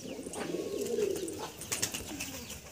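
Madrasi pigeons, an old-bloodline high-flying pair, give soft throaty coos close by, a rolling murmur that swells and fades over a few seconds with faint background noise.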